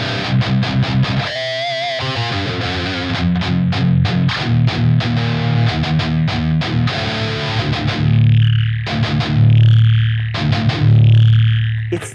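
An electric guitar plays through a Line 6 POD-style amp emulation plugin set to maximum high gain. Loud, saturated distortion carries choppy palm-muted chugs and ringing sustained chords, with no talking.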